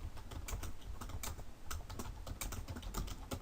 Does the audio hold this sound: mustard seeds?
no